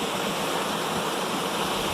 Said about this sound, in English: So this is a circular spillway.